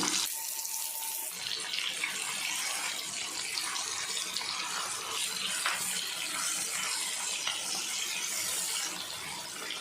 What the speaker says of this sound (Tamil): மீன் நல்லா பொரிஞ்சிட்ருக்கு